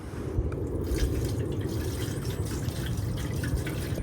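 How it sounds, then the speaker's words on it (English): Vinegar pouring through a funnel into the rusty gas tank of a Royal Enfield Bullet 500, a steady, close liquid trickle and drip that runs without pause and without speech. "I'm gonna put a funnel in and I'm gonna put some vinegar in the tank and shake it around a little bit"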